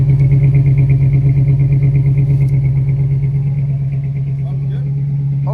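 A 1968 Ford Country Sedan engine idles steadily and close by, a deep even rumble with a regular pulsing beat and faint clatter throughout.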